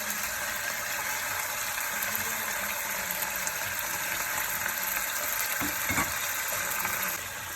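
Salmon and vegetables sizzle steadily in a curry pot, a continuous dense hiss of frying with a few soft knocks of stirring near the end.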